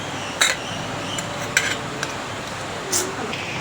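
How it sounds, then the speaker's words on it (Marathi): Butter being mashed in a bowl, with a few short metallic clinks and scrapes of a utensil against the bowl, sparse and close. "बटरला स्मॅश करून घेऊया."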